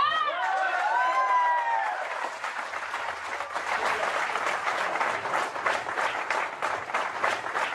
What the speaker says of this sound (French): Je vous propose de vous applaudir une fois vrai.